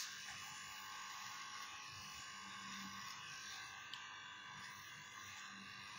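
An electric hair clipper buzzes steadily and close while cutting a short pixie haircut on grey hair. The quiet, continuous hum holds with no breaks and no talking.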